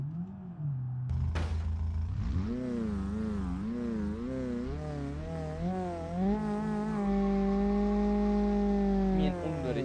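Modded car engine in BeamNG.drive revving loudly and continuously, a harsh wavering drone rising and falling in pitch, with no talk over it.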